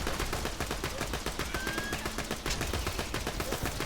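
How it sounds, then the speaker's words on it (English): Infinity Pistol gunfire in Borderlands 2: a rapid, continuous stream of loud shots with a steady rhythm, never pausing to reload, set against game sounds. "I have an Infinity Pistol, so I'll never run out of ammo. I never have to hit reload."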